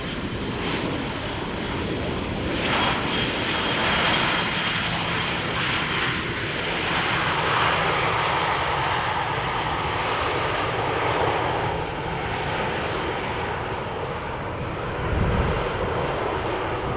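A 20-year-old Airbus A320 in Star Alliance livery at Schiphol Airport gives a loud, sustained jet engine roar that swells and fades slightly over its length, heard alone with wind on the microphone.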